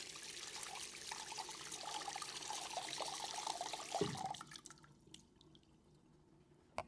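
Water flows from a Chicago sink faucet fitted with an MVP metering cartridge, its outlet removed, a quiet steady stream for about four seconds that stops, followed by faint drips and a small clunk.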